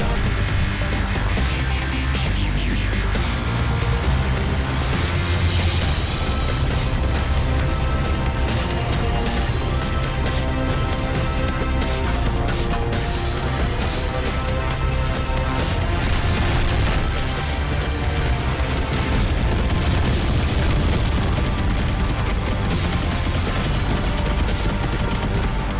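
A Robocraft vehicle battle with rapid machine-gun bursts, heavy booms and crashing impacts, loud and nonstop throughout as layered gunfire and explosions pile up without pause.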